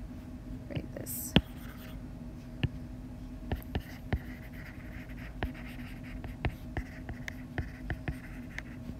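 Pen or pencil scratching on paper during a math lesson, with short sharp strokes and taps in an uneven rhythm, faint and close, over a low steady hum.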